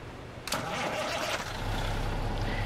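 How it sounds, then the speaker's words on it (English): A Freightliner Cascadia truck engine in American Truck Simulator cranks and catches with a sharp start, then settles into a steady, low, rumbling idle close by. "And listen to this engine."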